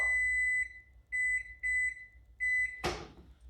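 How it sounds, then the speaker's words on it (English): Kitchen timer going off during egg poaching, sounding four sharp electronic beep bursts in an even pulse, close and clear, ending with a brief clatter as it is switched off. "Our timer just went off, so we're going to turn it off."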